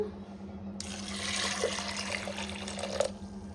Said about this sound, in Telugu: కొద్దిగా వాటర్ యాడ్ చేస్తున్నాను